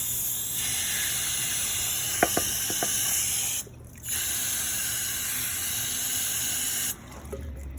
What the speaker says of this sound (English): So I'm just going to take some brake clean and spray that down.